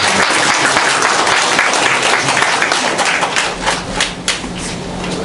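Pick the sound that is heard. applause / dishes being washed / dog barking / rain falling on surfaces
applause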